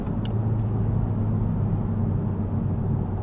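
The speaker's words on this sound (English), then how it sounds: "I'll go into a downshift in Comfort mode so you can hear what that's like" A 2023 Honda Civic Type R downshifts in Comfort mode, heard from inside as a steady, muted low engine rumble with no sharp bark or pop.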